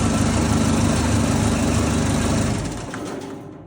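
A Case 1835B skid steer's engine idles with a steady, rough mechanical rumble close by, then winds down and cuts off near the end.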